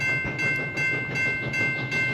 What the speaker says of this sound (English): there's a train approaching